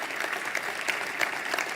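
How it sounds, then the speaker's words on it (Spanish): Church congregation applauding during a sermon, a steady wash of many hands clapping at moderate distance, fairly soft and continuous without voices. "Dele fuerte ese aplauso a Él."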